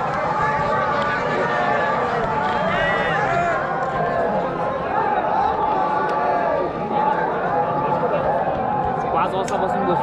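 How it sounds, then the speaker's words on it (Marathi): Large crowd of pilgrims gathered at Kedarnath temple, a dense continuous murmur of many voices and chatter filling the space, steady and loud throughout, with mantras playing over a loudspeaker. "आणि गर्दी बघा आता."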